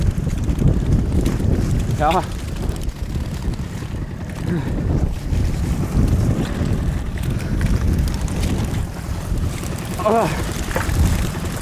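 Strong wind and rain buffet a fishing boat at sea, roaring as a constant rumble of gusts against the microphone. Someone says a few short words over it.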